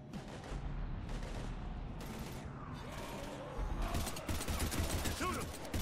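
Gunfire in the Mass Effect 3 video game during a fight against husks, bursts of shots and mechanical clatter mixed with game music and effects, with voices shouting over the action.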